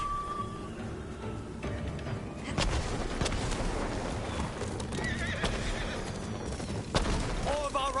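Horses neigh and whinny over galloping hooves amid a dense battle din with distant booms, loud and continuous, in the video game Ghost of Tsushima.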